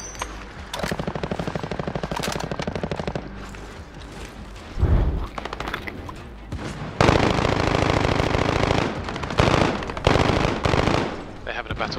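Automatic rifle fire crackles through a Call of Duty battle, loud bursts of rapid shots with heavier volleys in the latter half, while players talk over the gunfire.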